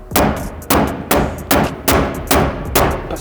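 A cloth-covered mallet strikes a Toyota Conquest car fender panel during fender rolling in a steady rhythm, about seven sharp thuds with a ringing clang, loud and close.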